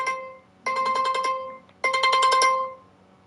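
A phone sounds a flash flood warning alert in two loud, close bursts of rapid, repeated electronic tones separated by a brief pause, with nothing else audible.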